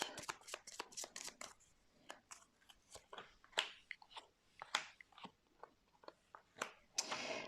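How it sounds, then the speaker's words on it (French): Tarot cards being laid out and handled produce a close, quiet run of crisp slaps, flicks and rustles in an irregular rhythm. "Je vais mettre des cartes sur le choix pour voir un petit peu quelles sont les possibilités."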